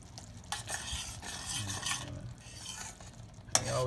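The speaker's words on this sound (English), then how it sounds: "the sauce here has been simmering down now about 6 minutes" Curry shrimp sauce with milk simmering in a pan, a soft sizzling bubble with spoon stirring and scraping against the pan, a sharp clink near the end.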